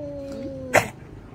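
A cat gives a short meow with a sharp burst, faint and close in a quiet home, while someone speaks softly around it.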